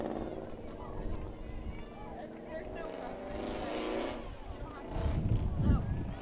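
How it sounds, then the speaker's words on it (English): A very loud car roars in the background at a girls' high school playoff soccer match, its engine rising and falling under nearby voices and crowd noise. "Very loud car in the background."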